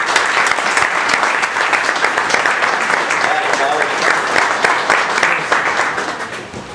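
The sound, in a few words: audience applause for the bartender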